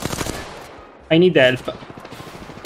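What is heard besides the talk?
gunfire in the video game Apex Legends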